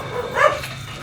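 A single short dog bark rings out loud and close in a brief burst, standing out over a low background murmur.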